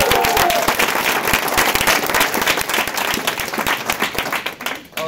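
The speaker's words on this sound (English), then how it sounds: "give the visitors a round of applause" Audience applause for first-time visitors at a Saturday gathering, a dense, steady roar of many hands clapping close and loud for about five seconds, tapering slightly at the end.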